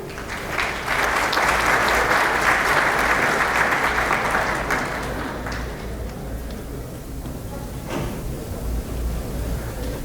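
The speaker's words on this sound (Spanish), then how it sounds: "aplausos para él" Audience at an aquaculture expo technical talk in Guayaquil applauds a speaker, a loud burst of clapping that thins and fades over several seconds.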